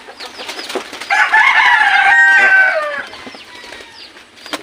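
A rooster crows loudly nearby in one long, drawn-out call, with softer chirps and clucks around it before and after.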